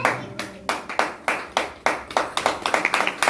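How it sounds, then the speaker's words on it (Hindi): A church congregation claps loudly in a steady, quickening rhythm of sharp close hand claps, with no talking over it. "जोरदार तालियां बजाइए।"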